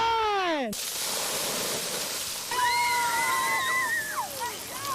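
Water sprays and splashes steadily at a splash pad in Northern Ontario on a hot July day, a broad hissing rush under high-pitched children's squeals.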